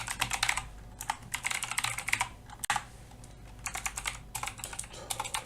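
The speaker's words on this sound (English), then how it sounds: "Let me just type it in." Rapid, close keystrokes on a computer keyboard type out a git clone command, clattering in quick runs with a few brief pauses and one louder key strike midway.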